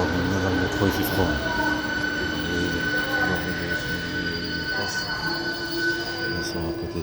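A subway train runs with a steady rumble and high metallic wheel squeal, continuous and loud throughout, with faint French-speaking voices talking beneath.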